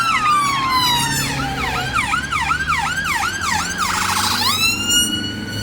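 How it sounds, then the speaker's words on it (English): Fire brigade and ambulance sirens wail together, loud and close, with overlapping rising and falling tones plus a rapid yelp that sweeps past, heard on a street in Sheepscar, Leeds, with no talk over them. "when you see the fire brigade and the ambulance, it may well be a bad accident"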